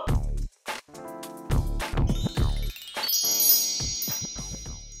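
A cartoon notification bell effect rings out with bright, ringing ding tones amid lively animated music, loud and close, with no talk.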